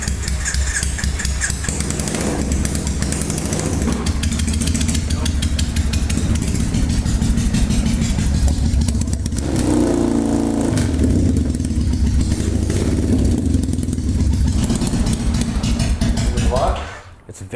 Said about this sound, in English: We're hoping it runs on both cylinders.